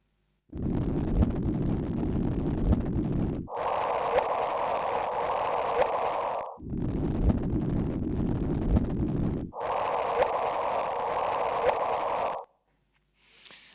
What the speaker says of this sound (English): there's this sort of general sort of rumbling noise. That's just the noise in the detectors.